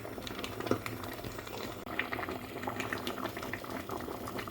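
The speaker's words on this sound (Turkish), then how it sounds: "Şöyle arkadaşlar güzelce kaynıyor gördüğünüz gibi." A thick fruit mixture of apples for fruit leather bubbles and pops steadily in a pot, soft plopping bursts over a continuous simmering hiss, close and moderately quiet.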